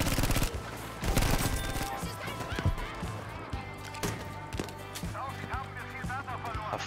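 Gunfire in the video game Battlefield V, with repeated sharp shots and bursts ringing out over busy battlefield noise and game music, loud and fairly close.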